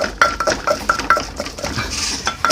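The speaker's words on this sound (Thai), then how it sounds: "ตอนนี้เราจะมาตำปนก่อน" Rapid, uneven knocking and clattering of a pestle pounding papaya salad in a mortar, close by and busy, with no talking.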